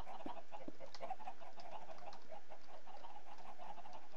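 Chickens on a Minecraft automatic chicken farm cluck softly and repeatedly, a faint scattered chorus of short clucks with no talking.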